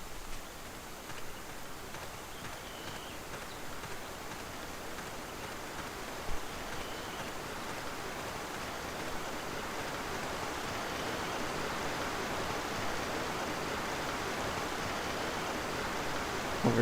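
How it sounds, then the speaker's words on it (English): A small waterfall in the video game Jurassic Park: Trespasser, a steady broadband rush of falling water that holds constant and swells slightly toward the end, with no voices. "Over here we've got a nice little waterfall"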